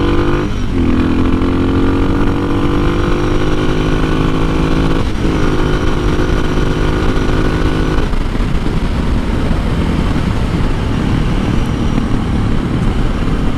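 Motorcycle engine on a performance ride in third gear, with a steady loud drone of harmonic engine tones. Two short dips in pitch come before a rougher, broadband roar from about eight seconds on.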